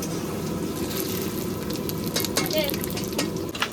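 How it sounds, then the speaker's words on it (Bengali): Whole cumin, bay leaf, cardamom, cloves, cinnamon and dried red chillies sizzle and crackle in hot oil, a loud continuous close-up frying hiss with a few brief sharper pops. "ফোড়নে দেবো জিরে, তেজপাতা, এলাচ, লবঙ্গ, দারচিনি, শুকনো লঙ্কা।"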